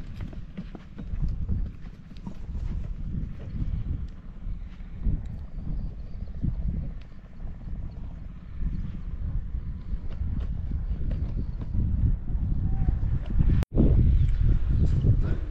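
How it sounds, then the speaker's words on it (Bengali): Horse hooves clip-clop at a steady trot across a sandy river char on the Jamuna, close and continuous, with gusty wind buffeting the microphone throughout. "ঘোড়া দিয়ে যাতায়াত করেন?"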